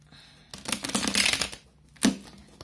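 Tarot card deck being shuffled in a quiet room, two bursts of papery riffling, a longer one followed by a brief sharp flick, close and fairly soft.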